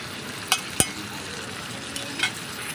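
Chopped tomatoes with salt and turmeric frying in a pan, a steady close sizzle with two sharp clicks of a stirring utensil early on and a couple of softer taps later, no voices.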